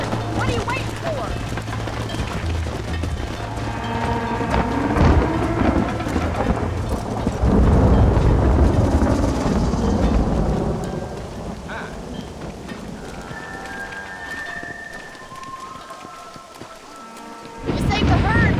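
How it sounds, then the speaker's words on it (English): Thunderstorm in the Red Dead Redemption video game: steady heavy rain hammering down, with deep rolling thunder rumbling through, and a few brief voices heard amid the downpour. "Storm's getting worse."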